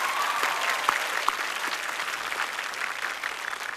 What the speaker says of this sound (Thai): ปรบมือให้น้องๆทั้ง2โรงเรียนหน่อยครับ